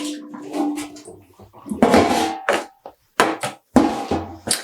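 Dye rinse water splashes out of a pan as it is poured away, arriving in several short gushes and splashes with brief pauses between them.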